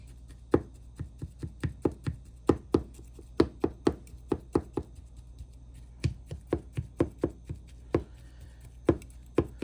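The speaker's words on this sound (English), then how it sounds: "So you just want to take your little knife and get the seasoning all through the steak." A small knife taps and jabs rapidly into a seasoned raw steak on a board, sharp close knocks in quick irregular bursts with brief pauses between runs and no talking.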